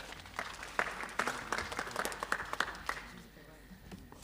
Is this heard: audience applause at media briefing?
yes